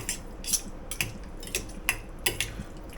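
Utensils clink and scrape against a bowl while spaghetti is stirred into mac and cheese, giving several short, light metallic taps spaced irregularly over quiet background noise.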